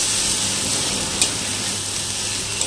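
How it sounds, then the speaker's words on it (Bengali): Cumin and chili powder frying in a pan, a steady close sizzle with faint hiss and no voices. "ভালো মতো সব মশলাগুলোকে ভাজা করে নিতে হবে।"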